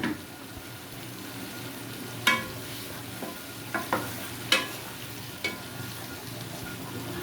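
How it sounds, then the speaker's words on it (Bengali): Bottle gourd sautéing in a pan gives a low, steady sizzle, broken by occasional sharp scrapes and taps of a spatula as it is stirred, close by and with no voices. "এই জন্য আমি লাউ কষাচ্ছি। এই যে লাউ প্রায় কষি আসছে।"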